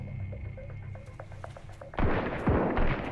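Gunfire from enemy invaders in the water-world survival game Sunkenland: faint scattered pops at first, then a louder burst of shots with sharp cracks near the end.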